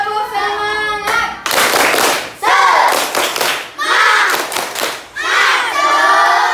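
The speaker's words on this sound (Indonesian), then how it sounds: "Ibu pengen tepuk semangat dulu" A school class doing the tepuk semangat clapping chant, bursts of rhythmic group claps alternating with children shouting the chant in unison, loud and close, with a teacher's voice leading at the start.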